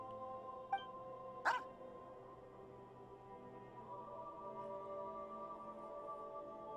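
A dog in Genshin Impact gives two short barks early on, sharp yips over a soft sustained tonal game ambience that continues alone afterward.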